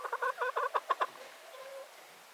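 Homestead hens clucking close by, a quick run of about eight short rhythmic clucks followed by a softer, drawn-out murmuring trill that fades away.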